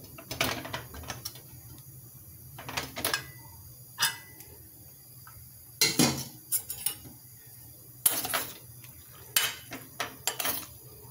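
A pressure cooker lid is twisted and lifted off after the steam has settled, once the green banana kootu has cooked, giving a handful of sharp metallic clanks and scrapes spread across a quiet kitchen with no talking.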